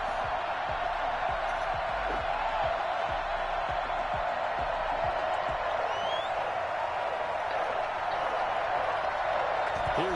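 Stadium crowd noise from the Madden 21 video game at a sold-out Foxborough game between the Patriots and Ravens, a steady dense roar and cheer holding level throughout.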